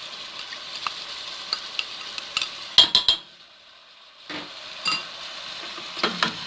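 Onions added to browning thawed meat in a pan, a soft frying hiss with clinks and scrapes of a utensil, a short quiet gap, then stirring resumes nearby.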